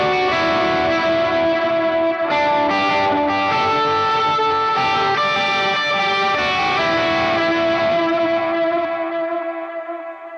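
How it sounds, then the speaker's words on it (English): Electric guitar plays chords and notes drenched in heavy delay and reverb, repeats smearing together and trailing off in a long wash at the end. "I'm going to turn on the reverb and delay"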